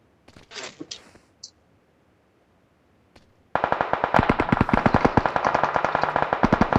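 Rapid automatic gunfire from the mobile battle-royale game PUBG Mobile erupts midway, loud and sustained with dense repeated shots, after a few brief voice fragments and near silence.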